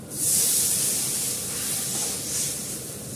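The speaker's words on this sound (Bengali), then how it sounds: "আলুটা সেদ্ধ হওয়ার জন্য যেটুকু জল লাগবে ততটুকুই দিলাম" Water poured into a hot pan holding potatoes, a burst of loud steamy hissing that swells at once and then settles to a softer, wavering spray, heard alone.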